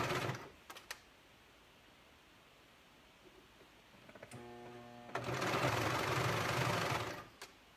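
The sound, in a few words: sewing machine sewing loose-weave fabric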